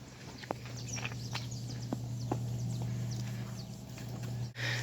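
Dairy cows walking on a farm, their hooves giving a few faint, scattered clops over a steady low hum, with no talking.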